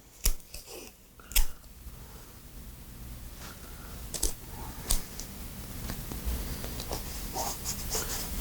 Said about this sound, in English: we're going to tape them together